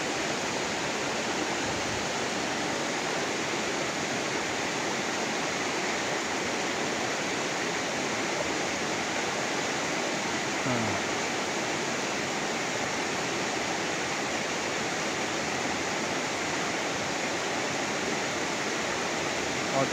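Strong, steady rush of clear flowing water near Mount Isarog, a loud continuous roar of a stream or irrigation channel filling the whole stretch without pause, close by.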